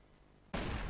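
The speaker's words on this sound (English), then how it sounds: "That's the problem with that flashbang." A flashbang grenade detonates in a CS:GO match replay, a sudden loud burst cutting in halfway through after quiet, followed by a sustained bright ringing roar that fills the rest of the moment.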